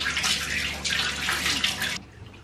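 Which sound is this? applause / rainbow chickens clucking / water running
water running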